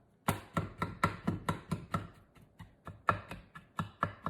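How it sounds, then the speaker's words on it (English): A knife chops lumps out of brown sugar on a board in a home kitchen, giving a steady run of about fourteen crisp, close knocks at an even rhythm, with a short pause partway through and no talking. "Just chop them out."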